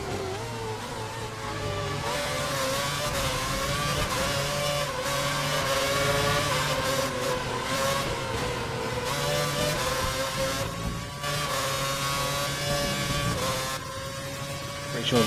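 Formula 1 race car engines whine steadily in a racing video game set at the 2011 Spanish Grand Prix in Catalonia, a sustained high drone shifting in pitch, with a voice talking over it.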